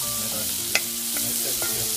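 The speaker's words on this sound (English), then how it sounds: "So we got the onions, let's get that in the pot. That's gonna cook up a little bit." Chopped onions frying in butter and oil in a pot, a steady close sizzle with a few light clinks from stirring, no voices.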